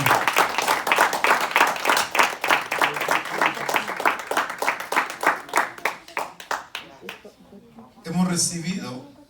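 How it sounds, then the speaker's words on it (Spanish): A church congregation claps loudly and steadily in a fast, even rhythm that gradually thins out and fades. A voice speaks briefly at the end. "Denle fuertes palmas al Señor."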